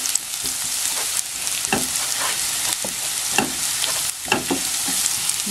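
Garlic sautéing in a hot pan, a continuous bright sizzle broken by scraping stirs and occasional clatter, close and steady with no talking.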